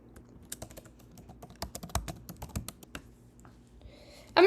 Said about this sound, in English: I'm going to type in ListenBox, listenbox.app